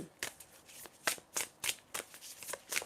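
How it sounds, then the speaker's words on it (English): Tarot cards being shuffled by hand, a series of crisp riffling bursts about every third of a second, close and clear with no talking. "I'm going to shuffle to get more information for you."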